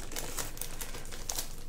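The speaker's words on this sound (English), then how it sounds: "I'm slowly working out how to work with these plastic bags without ripping them." Crinkling of plastic sticker bags being handled, a run of light crackles and sharp rustles close to the microphone, with no speech.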